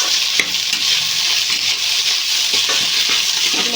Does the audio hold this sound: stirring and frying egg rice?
yes